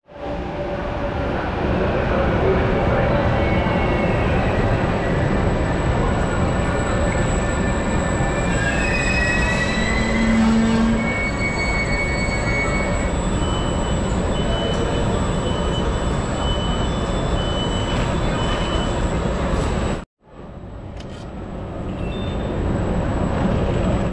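A train pulls into an underground metro station with its wheels squealing loudly and continuously over heavy rumbling, cut by a brief drop in sound near the end before the roar resumes.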